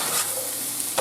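Four large carrots sautéing in a pan give a steady, close sizzle with faint stirring through a short, even stretch.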